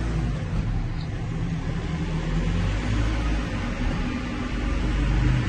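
A car with a six-speed gearbox accelerates in fourth gear on a dynamometer from about 2000 rpm, a dense, steady rushing roar that swells slightly toward the end, with no voices.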